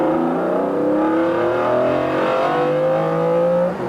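A loud McLaren F1 engine revs hard to about 7,400 rpm and climbs in pitch, dropping briefly at each gear change through third and fourth before winding up again, close and continuous.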